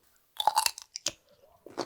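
Sugar-cured white kimchi radish being chewed close up, a burst of crisp wet crunching followed by quieter chews after a pause, with no talking.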